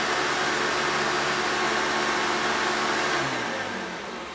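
A 1996 Hoover Runabout Supreme triple filtration upright vacuum cleaner runs with a loud, steady motor whine and airflow roar, close by, then begins to wind down at the end.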